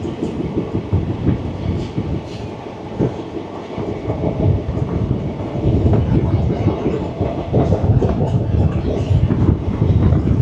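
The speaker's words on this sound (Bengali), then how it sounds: "আমাদের যাত্রাপথে আমরা যে ট্রেনে আজকে জার্নি করছি এটা কিন্তু ICF রেক, LHB নয়" A passenger train with ICF coaches runs on the rails near Koraput, giving a loud, continuous rumble with rhythmic wheel clatter that grows stronger partway through.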